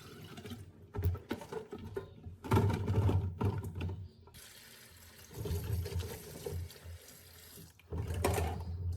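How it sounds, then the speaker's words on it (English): Tap water runs over lemons as they are rinsed in a kitchen, coming in uneven bursts of splashing and patter with short quieter gaps, close by. "I removed the lemons and rinsed them thoroughly with clean water"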